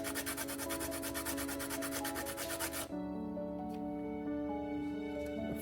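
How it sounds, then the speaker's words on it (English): Nutmeg grated into plantain porridge, a fast rhythmic rasping scrape repeated steadily for about three seconds up close, then stopping, leaving faint background hum and light kitchen noise. "I'm just grating my nutmeg in to give it"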